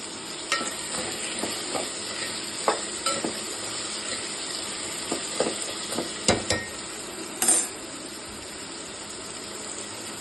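Tomatoes sauté in a pan for vegetable biryani, a continuous close sizzle broken by repeated scraping and tapping of a spoon against the pan.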